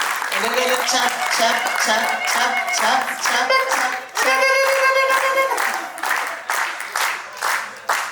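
An audience at an anniversary gathering claps warmly, dense clapping from many hands running continuously and fairly loud, with voices also present in the room.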